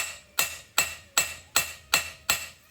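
A rounding hammer beats hot steel while a Bowie knife is forged, six sharp ringing blows at an even pace of about one strike every 0.4 seconds, close and clear with no talking.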